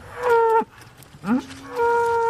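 Dairy cows on a farm lowing loudly and close by, with two long moos separated by a short breathy call and a brief pause, and no talking.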